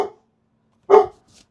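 A dog gives two short barks, the first cut off at the start and the second louder and clearer a moment later, followed by a faint trailing sound, with no talk.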